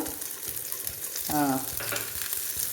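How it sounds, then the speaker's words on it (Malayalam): Close, steady sizzling of mustard seeds, onion and urad dal frying in hot oil, with a brief brighter crackle and scrape of stirring partway through. "ഒരു അല്പം ഉള്ളി ഇടുന്നുണ്ട് ഇനി ഒപ്പം ഉഴുന്നാണ് ഇടുന്നത്"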